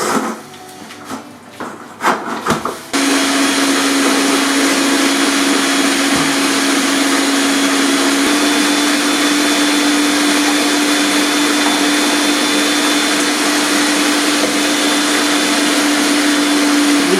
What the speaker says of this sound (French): Mixeur